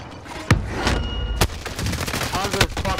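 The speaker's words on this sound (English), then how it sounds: "He shot me in the knee and it downed me one shot." Video game gunfire: sharp, loud shots cracking out in a few separate bursts over continuous game noise, with a voice talking throughout.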